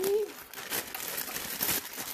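Recycled plastic bags crinkle and rustle up close in a continuous crackly texture, with a voice briefly heard at the start.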